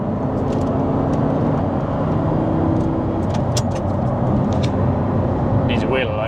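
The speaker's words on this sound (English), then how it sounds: "It's like a trim clip loose." Light clicking rattles from a loose trim clip on an Audi R8 V10 while driving, scattered over a steady, loud road and engine rumble, with muffled voices in the cabin.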